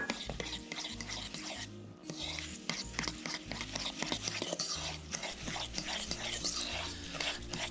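Breadcrumbs being mixed into a gluten-free meatloaf mixture, giving a steady, close scraping and stirring sound against a bowl with rhythmic strokes under soft background music.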